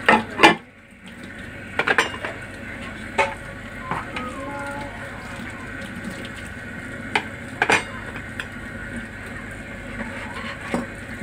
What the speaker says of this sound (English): I wash the dishes for you